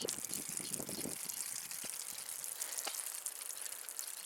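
A Sea to Summit Pocket Shower sprays water from its twist-on nozzle in a steady, soft hiss with light patter, heard close and alone.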